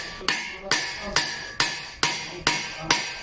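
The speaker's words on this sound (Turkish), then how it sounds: "çekiç seslerini tekrar duyurmaya başladı" Seven sharp metal hammer blows land at a steady, even pace, each ringing briefly as a hammer shapes copperware up close in a coppersmith's workshop.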